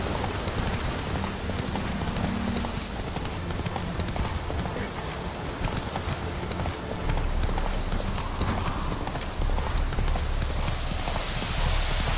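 The horse Roach galloping in The Witcher 3 video game, a fast, loud, continuous rhythmic clip-clop of hooves with an undercurrent of rain-like ambient noise and no talking.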